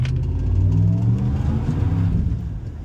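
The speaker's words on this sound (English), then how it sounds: "And I did hear the blower whining." A 5.7 Hemi RAM truck fitted with an Edelbrock supercharger accelerates during a tuning run, its engine holding a loud, steady, close-up roar that eases slightly toward the end.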